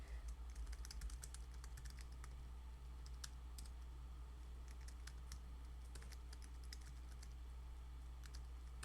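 Fingers type quickly on a computer keyboard in uneven bursts of crisp key clicks, with short pauses between runs, all fairly quiet over a low steady hum; no voices are heard.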